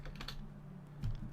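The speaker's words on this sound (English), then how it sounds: "If I start typing, yeah." Quiet typing on a computer keyboard, a short run of light key clicks with a couple of firmer taps near the end, close to the microphone and without speech.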